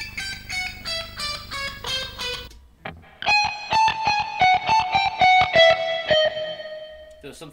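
An electric guitar runs through a self-invented, wacky scale shape, fast picked notes in two bursts separated by a brief gap, bright and slightly processed, played alone without talking.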